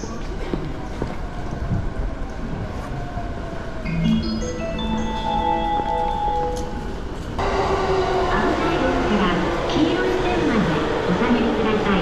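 A 15-car JR Joban Line train stands at a platform in Kashiwa Station, Japan, during morning rush, with a steady hum, electronic chime tones and a Japanese station announcement over the noise, then a louder rumble as it moves.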